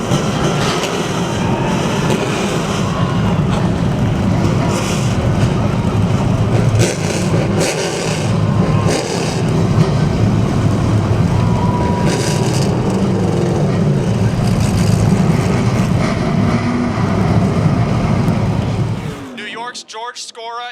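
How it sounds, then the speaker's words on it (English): Race car engines at Motordrome Speedway starting and revving together, a loud continuous roar of many engines for about nineteen seconds with rising and falling revs, then cutting down abruptly near the end. "Gentlemen, start your engines!"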